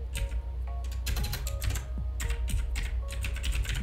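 Rapid, irregular clicking of keys on a computer keyboard while text is entered in Microsoft Word, close and steady throughout with a low hum underneath and no talking.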